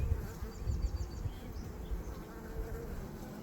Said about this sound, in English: She's grabbing the individual bees in the hive and trying to call them to action for whatever reason.